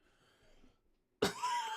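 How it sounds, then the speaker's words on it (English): A single sharp cough bursts out after a near-silent pause, close and loud, followed by a short trailing throaty sound, with faint murmuring before it. "Sorry if I do apologize for my cough."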